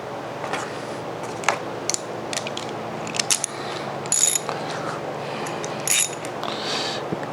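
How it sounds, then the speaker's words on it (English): A bolt is tightened through the flange of a taper bushing against a pulley face, giving light metallic clicks and ratcheting taps scattered over a steady background hum, with a few sharper clinks. "by tightening this bolt, it'll push this pulley away from the flange of the bushing"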